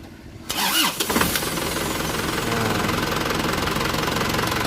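Direct-injection diesel engine starting: a short cranking burst, then it catches and settles into a steady, loud, knocking idle that runs on close-up without talk.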